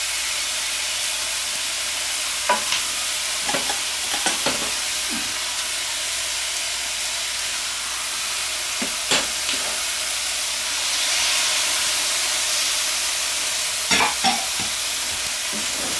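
Beef and vegetables fry in a pan for an oriental-style dish, a steady broad sizzle with intermittent scraping clicks of stirring, close and alone.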